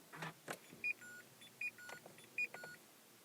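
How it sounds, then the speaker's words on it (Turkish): Repeated electronic warning chimes from a Dacia Duster with LPG as the ignition is switched on in a showroom, three evenly spaced bright beeps with faint mechanical clicks between them, close and clear with no talking. "Hatta şöyle bir kontağını açalım."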